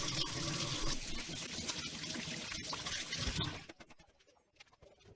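Tap water runs steadily while hands are washed after handling raw meat in a home kitchen during jalfrezi preparation, a close, even splashing that tapers off into faint drips near the end.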